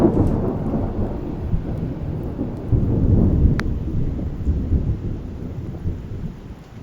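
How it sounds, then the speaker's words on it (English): A thunderstorm rolls over the mountain trail above Convict Lake, with a heavy, continuous low rumble of thunder blending into steady rain, loud and enveloping throughout. "it's also starting to rain"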